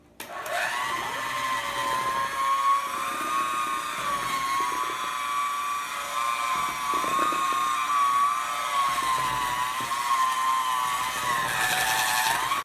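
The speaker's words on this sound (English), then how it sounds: "we're going to use our mixer to combine all the ingredients" An electric mixer combining peanut butter blossom cookie dough in a bowl, a continuous loud motor whine that holds steady for the whole stretch with slight wavering in pitch.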